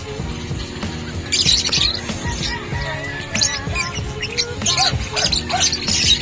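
Caged birds, including green Opaline pale dilute types, at the Bocaue pet market, sending up loud, close bursts of shrill squawks and chirps over a busy market background with people talking.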